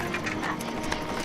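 Horse hooves clip-clopping on a road, a short quick run of close, moderately loud clops with a faint mechanical rumble underneath, no talk.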